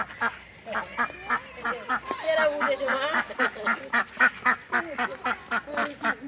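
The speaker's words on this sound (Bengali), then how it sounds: "দেখো কত দারুণ লাগছে হাঁসগুলো।" Ducks quack in rapid, repeated bursts, loud and close, a busy flock calling over one another with a steady murmur of activity behind.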